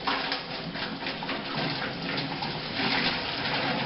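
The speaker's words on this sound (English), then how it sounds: "adding sparge water on here" Sparge water poured steadily into a grain mash during all-grain brewing of a German Pilsener, a continuous close splashing and trickling wash of liquid without pauses.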